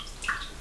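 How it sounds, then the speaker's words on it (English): Water is squeezed out of a wet shaving brush, giving a brief, soft splashy trickle under half a second long, close and quiet. "Squeeze all the water out of my brush"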